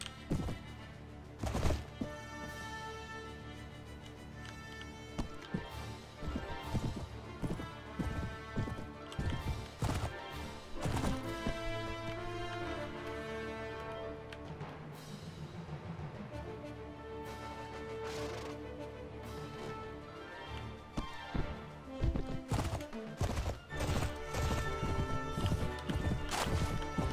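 Horse hooves clip-clop in the Floris video game, a dense run of sharp rhythmic hoof strikes mixed with clashing battle sounds and music, loud and continuous throughout.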